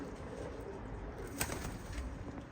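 Soft pigeon cooing over a steady outdoor hum, low and continuous, with a brief sharper sound midway.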